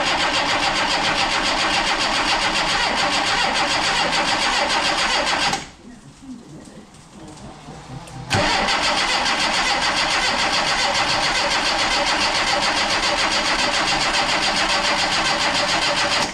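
A Yugo Sana GL car engine, left unstarted for about 20 years, cranks and churns loudly and steadily, falls briefly quieter, then catches and runs at a constant, rough roar that continues for many seconds.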